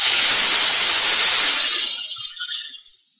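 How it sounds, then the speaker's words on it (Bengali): Marinated fish drop into hot mustard oil in a wok, a loud bright sizzling hiss that fades away over the final second or so. "এই মাছগুলো আমি দিয়ে দিলাম কড়ার মধ্যে।"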